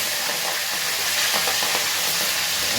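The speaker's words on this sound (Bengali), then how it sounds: "এই যে মা ইলিশ মাছ দিয়ে দিল, হালকা একটু ভেজে নামিয়ে দিতে হবে" Hilsa fish frying lightly in a pan, a steady close sizzle and hiss with faint stirring scrapes, no voices.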